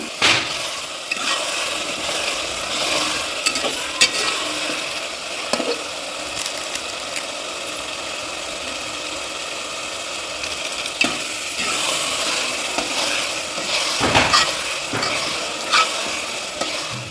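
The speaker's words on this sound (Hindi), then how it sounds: "तो मसालों को थोड़ा सा पका लेते हैं, उसके बाद इसमें डाल देते हैं टमाटर का पेस्ट, और उसके बाद फिर इसको पकाते रहना है।" Spices and tomato paste cook down in a pan for pulao, a dense continuous sizzle up close with intermittent stirring scrapes and a few louder knocks against the pan.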